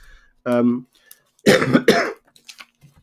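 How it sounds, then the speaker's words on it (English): A couple of short, harsh coughs burst out close by, with a brief voiced sound before them and quiet between. "Excuse me, coughing."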